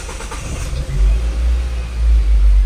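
The engine of a used car with a crankshaft position sensor fault code is cranked and started. A short starter whir is followed by a loud, low engine rumble close by that swells and settles.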